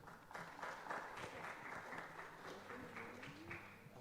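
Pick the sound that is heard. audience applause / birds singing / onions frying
audience applause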